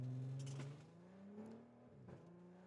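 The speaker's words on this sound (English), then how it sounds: "Oh, this car sounds good." A car engine hums and revs nearby while driving in Australia, its pitch rising and falling through a few gear changes, with no voices.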